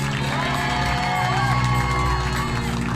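A crowd at the end of a live tabletop role-playing game show cheers and whoops, a noisy mix of voices with tonal music or feedback sustained underneath, loud and continuous throughout.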